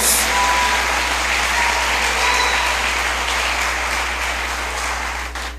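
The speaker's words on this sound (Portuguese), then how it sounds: "pode aplaudir Jesus" A church congregation at a revival conference applauds together, a dense, loud wash of clapping filling the room and fading slightly at the end, with a low hum beneath.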